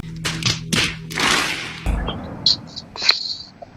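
Gunfire in a video game delivering a headshot: a few sharp thuds and clicks among game effects, with a voice talking over part of it and bright high pings near the end.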